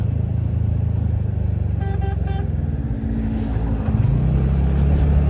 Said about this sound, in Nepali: बाटो छोड भने जसरी हर्न बजायो